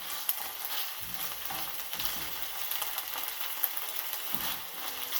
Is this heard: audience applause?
no